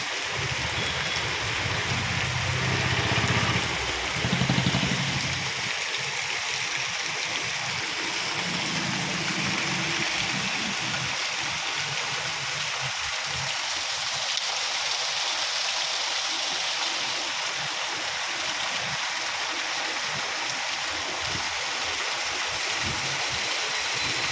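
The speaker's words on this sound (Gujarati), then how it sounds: "રસ્તા ઉપર નદી ન આવી ગઈ હોય એવું લાગે છે ભાઈ પાણી પાણી છે" Rainwater rushes over a road like a river after a downpour, a steady broad roar of flowing water that continues unbroken, with a faint engine-like rumble early on.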